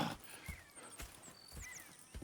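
Horses in the video game Red Dead Redemption 2, with a few soft hoof clip-clops and shuffling steps at close range, plus a faint whinny-like tone, over quiet game ambience with no talk.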